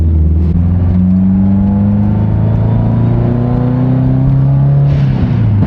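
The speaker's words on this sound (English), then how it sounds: "spicy little turbo" A built Subaru STI with a turbo engine revs close by, its steady droning tone climbing and falling through a single long pull before dropping back near the end, with no talking over it.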